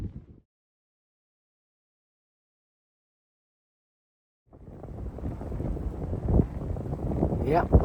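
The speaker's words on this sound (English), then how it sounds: "Yep, that's the sound of the wind." Wind gusts roaring through trees along the Appalachian Trail near Max Patch, a broad rushing noise that swells in after a brief silence and builds loudly to the end, close to the microphone.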